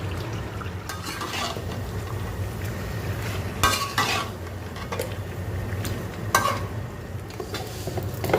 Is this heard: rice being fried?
yes